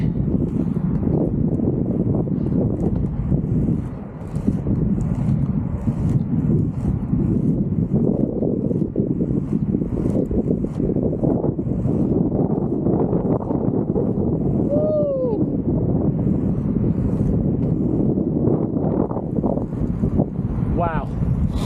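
Strong wind buffets the microphone in a steady, loud roar throughout while inline skating outdoors, with a brief lull early on and faint whistles.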